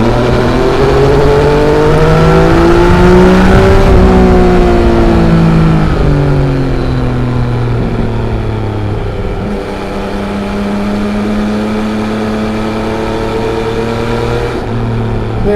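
A loud Yamaha XSR900 motorcycle engine roars and revs up steadily while passing trucks, pitch rising and falling through gear changes, close and continuous with no talking.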